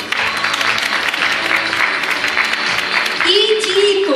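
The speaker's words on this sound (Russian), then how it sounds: "аплодисменты зрителей" Spectators at a bellydance pageant applaud a contest winner, a loud, steady crowd clapping throughout, with music rising underneath near the end and a voice briefly audible.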